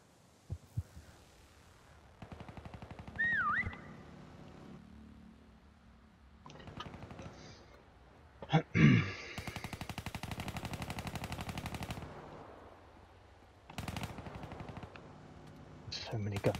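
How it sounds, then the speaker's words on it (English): Gunfire in Call of Duty prop hunt comes in several bursts, some rapid like automatic fire, mixed with game effects and quiet gaps while players talk over it. "So many gunshots, so much violence."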